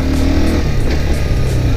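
A 200cc motorcycle engine runs close and loud with a steady, buzzing drone and slight pulsing, no voices over it.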